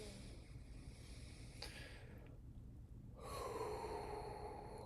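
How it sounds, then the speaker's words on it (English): A deep, slow inhale during a solar plexus chakra meditation, a soft airy breath drawn in close to the microphone, rising toward the end against a quiet background. "Breathe in."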